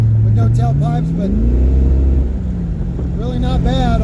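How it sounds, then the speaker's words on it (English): A Ford Mustang on its stock exhaust with Flowmasters and 2 1/4 inch piping, no tailpipes fitted, runs in an echoey enclosed space; a loud engine drone climbs in pitch then settles to a steady idle beneath continuous talking. "All stock exhaust with just Flowmasters and 2 1/4 inch piping."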